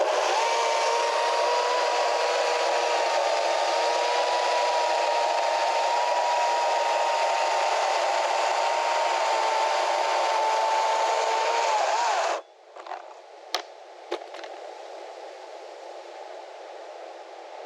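A Stihl MS261 or Kobalt 80V chainsaw slabbing a Japanese cherry tree, a long steady high whine held for about twelve seconds, then cutting off abruptly into quiet with a few brief clicks.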